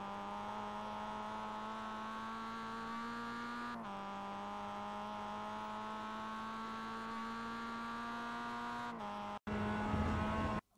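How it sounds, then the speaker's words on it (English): A Mazda MX-5 race car in the iRacing video game at Jefferson Circuit holds a steady, buzzing engine drone at high revs, with a couple of brief gear-shift dips and a final surge, close and continuous with no talk. "Attack the inside and be aggressive on the throttle to carry your speed towards the last turns."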